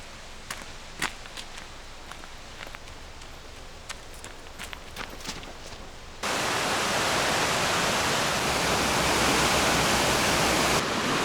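Steady broadband rushing of a river in the Grindelwald valley, Switzerland, fills the second half, loud and continuous; before it, quieter ambience with scattered footsteps and small knocks.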